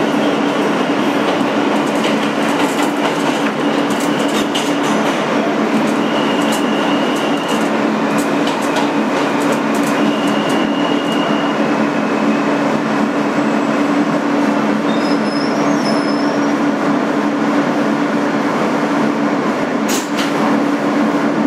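Interior of a 2008 Kawasaki R160B subway car running as a New York BMT Sea Beach N local, with a loud constant rumble, steady motor hum and rhythmic rail clicks, plus brief high squeals near the end.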